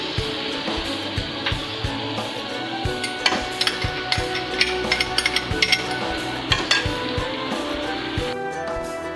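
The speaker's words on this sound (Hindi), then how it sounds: "ये सारी चीज़ें मैंने मिक्स कर दी हैं" Soy sauce and tomato ketchup are mixed into chicken for chatpati chicken, a steady wet stirring broken by frequent close clinks and scrapes of utensil on the dish.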